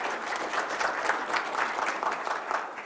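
A room at a Rochester Board of Education business meeting fills with steady applause from the audience, a dense even clatter of many hands clapping throughout at moderate volume.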